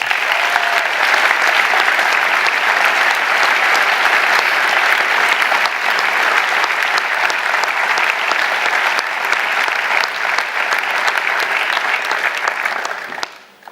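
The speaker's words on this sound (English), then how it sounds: "Let's give all the teachers, support staff and governors who have been part of your lives at Tanglin a big round of applause." Sustained, loud applause from a large audience at a Year 13 graduation ceremony at Tanglin, continuous for many seconds before tapering off at the end.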